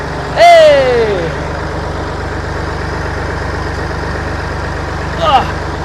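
An old Massey Ferguson tractor engine, recently fixed of a loose wire, idles with a steady low rumble, with a squealing whine near the start and another brief squeal near the end.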